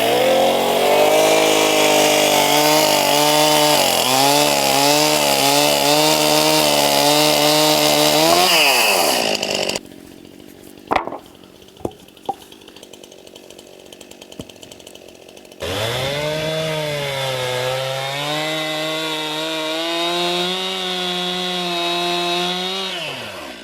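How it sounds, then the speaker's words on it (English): A chainsaw cuts wood into 4-foot sections, engine revving loud with rising and falling pitch, then dropping to a quieter idle with clicks and knocks before roaring back into another cut. "we'll give it a chop with a chainsaw and we'll be done"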